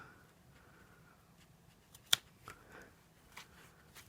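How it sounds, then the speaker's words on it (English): A single sharp snip of ribbon scissors trimming the edge of a handmade pop-out shutter card, quiet and close, with a few faint paper rustles and small clicks around it. "let's grab those ribbon scissors again and give this a little"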